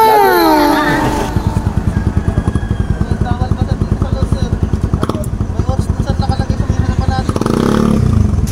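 A motorcycle engine in Baguio runs close by with a rapid, steady thumping beat, rising and fading as it passes, with people talking over it at the start and end.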